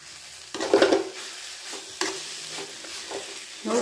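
A spoon stirs a kohlrabi fry seasoned with chili powder in a pan, with scraping strokes and soft sizzling close up, no talking.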